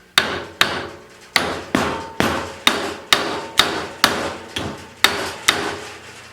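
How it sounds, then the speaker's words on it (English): Repeated hammer blows on a boot to break its suction seal, about a dozen sharp, loud strikes in a steady rhythm, each ringing briefly before the next. "and then we can hammer it off"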